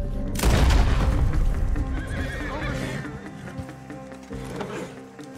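A horse neighs and whinnies loudly in Red Dead Redemption 2, its call rising then trailing off over heavy rumbling and hoof clatter, with a few faint sharp booms in the background.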